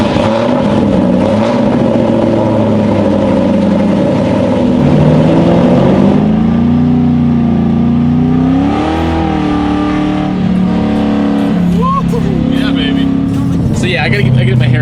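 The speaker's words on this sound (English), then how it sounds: "cold startup, straight pipe, long tubes, off-road X-pipe, 2000 Mustang GT" A 2000 Ford Mustang GT V8 with straight pipes, long-tube headers and an off-road X-pipe fires up cold, roaring loud and close with a deep, steady idle that swells in a few throttle blips.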